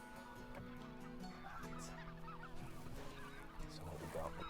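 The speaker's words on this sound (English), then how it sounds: "Some Greenland white-fronted geese down there, and further back is a big flock of barnacle geese" A distant flock of Greenland white-fronted geese and barnacle geese on Islay keeps up a continuous chorus of honking and yelping calls, overlapping and steady throughout, heard from a roadside lay-by.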